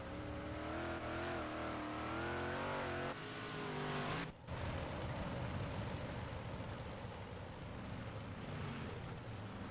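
Dirt track race car at night racing with a Pro Power engine, loud sustained revving roar with pitch sweeps as it spins and hammers back in, a brief dip midway, then steady engine and tire noise continues.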